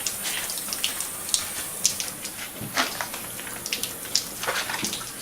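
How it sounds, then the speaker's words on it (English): Water trickles and splashes from a leak on a newly installed Navien NP210A tankless water heater, a steady close hiss with small irregular drips and spurts, no talk. "there's water leaking right there."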